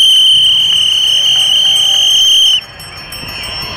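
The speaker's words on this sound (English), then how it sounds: "I'm gonna run out of puff all with this blowing of my whistle" A whistle blown at London's Gay Pride parade gives one loud, shrill, steady blast lasting about two and a half seconds, then cuts off, leaving softer crowd noise.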